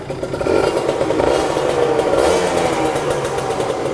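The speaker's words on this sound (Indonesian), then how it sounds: "kita akan coba nyalain motor Kawasaki Ninja ZX" A Kawasaki Ninja ZX sport motorcycle engine catches and settles into a loud, close, steady idle with a faint mechanical clatter.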